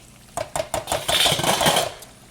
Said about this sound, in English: All right, I'm getting ready to add these shrimp in now.